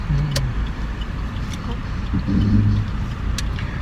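Passing cars in road traffic, a steady engine and road rumble with a vehicle drone rising midway, heard close under people's conversation.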